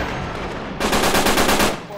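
Rapid automatic gunfire in Uncharted 3 multiplayer, a loud close burst of evenly spaced shots starting abruptly and continuing to the end over a dense background of game noise.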